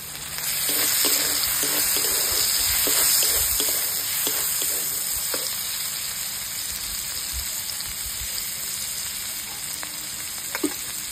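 A chopped tomato goes into onions already frying with salt in a pan for a fish-head moong dal, giving a steady close sizzle with scattered stirring clicks that eases slightly toward the end.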